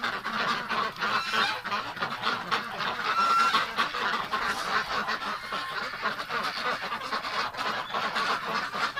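Ducks at a heated water station in winter keep up a dense, continuous chorus of quacking and honking calls, close and fairly loud, with no talk over them.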